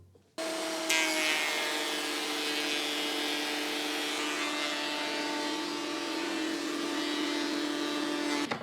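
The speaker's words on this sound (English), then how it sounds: "I'm going to use my thicknesser to take them down to 20 millimeters of thickness" A Metabo thicknesser planing wooden boards down to 20 mm, its motor starting and holding a loud, continuous whine with a gritty cutting roar as a board feeds through, steady from start to finish.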